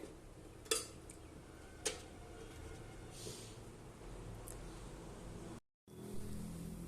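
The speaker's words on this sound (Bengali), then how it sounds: "এবার আমি ঢেকে দেব" A lid set onto a cooking pot of potatoes and fish in water, giving two sharp metallic clinks close by against a steady background hum, followed by a brief dropout.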